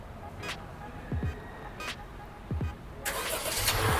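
A 2024 Honda City Hatchback 1.5 RS CVT starting by remote start: a few faint clicks and chirps, then the engine catches at about three seconds and settles into a steady, broadband idle that stays close and fairly loud.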